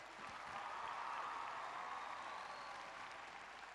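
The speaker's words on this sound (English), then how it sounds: "For JBD, a big round of applause" An audience at a youth arts festival performance applauds a sponsor, a faint, steady wash of clapping from a crowd, heard at a distance and unchanging throughout.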